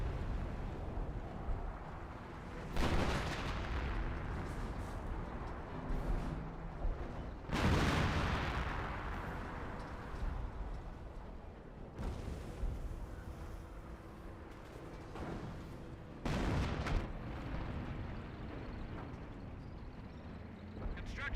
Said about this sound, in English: There's the M2s barraging over there. Or maybe some 25-pounders.